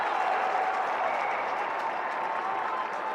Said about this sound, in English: Syracuse crowd erupting.